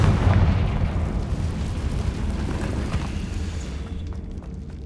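A Confringo blasting spell erupts in Hogwarts Legacy as a loud, near explosion with a heavy low boom, then a rumbling crackle that slowly fades over several seconds.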